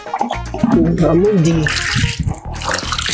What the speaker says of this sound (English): So this is how we wash our beans. Water to remove the dirty.